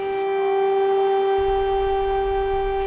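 Air raid sirens wail steadily over Kyiv, a loud sustained tone running unbroken from start to finish with a deep rumble joining partway through.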